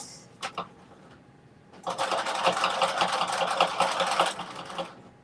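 A sewing machine stitches a chocolate and vanilla headband, with a few short taps at first and then a steady, close run of fast stitching for about three seconds.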